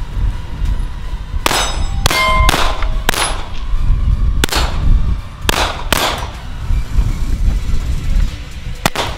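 Several sharp metallic clangs and pings ring out at irregular intervals as 9mm rounds strike an Innocent Armor backpack outdoors, each impact bright and ringing over a low, windy background.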